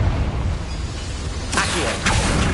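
Confringo explosive spell cast in Hogwarts Legacy, a low rumbling bed broken by a sudden bright blast midway and a second burst shortly after, loud and close.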